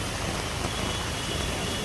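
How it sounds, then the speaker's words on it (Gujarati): Heavy monsoon rain falls in Surat, a dense, steady hiss of downpour with no breaks, loud and even, and no voices. "બધું જ આમ બહુ જ નો વરસાદ છે ભાઈ સુરતમાં."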